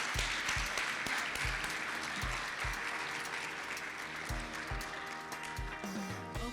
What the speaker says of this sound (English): Let's give Korea and Jamaica a round of applause.